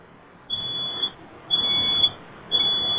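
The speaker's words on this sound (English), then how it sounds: "you can hear right there the fire alarm blaring" A smoke or fire alarm at a residence blares in three loud, sustained high-pitched pulses of about half a second each, separated by short gaps, with no talk over it.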